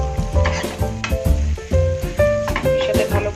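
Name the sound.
onion and chili frying in fish fat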